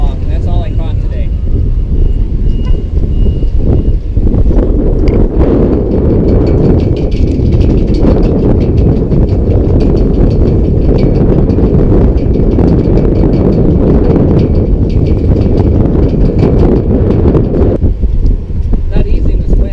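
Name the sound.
strong wind blowing at sea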